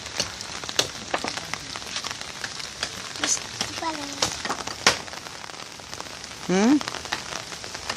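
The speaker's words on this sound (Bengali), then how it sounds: "বৃষ্টি আসতেছে" Rain falls outdoors in Faridganj, a scattered patter with sharp drips and splashes, while voices speak briefly nearby.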